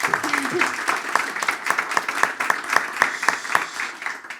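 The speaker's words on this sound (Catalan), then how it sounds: "Un aplaudiment, si voleu" Audience applause at a local authors' gathering on Sant Jordi welcoming guest author Janet Carrera Caicedo: a smaller crowd clapping with distinct individual claps, fairly close, with a voice briefly over the start.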